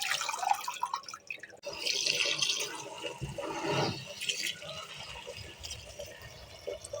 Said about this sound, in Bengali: এভাবে উল্টে পাল্টে ধুয়ে নিলে যা বালু থাকবে নিচের দিকে চলে যাবে